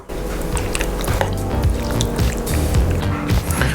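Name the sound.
black treacle dripping into bean stew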